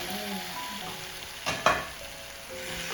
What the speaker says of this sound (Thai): ผัดเลยค่ะ คลุกเคล้าให้เข้ากันนะคะ